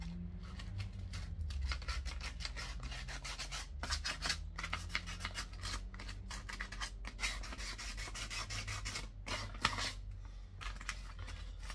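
A brush scrubs a car tyre during washing with quick, repeated rough strokes, a steady rasping swish that keeps going up close, with a low engine-like hum underneath.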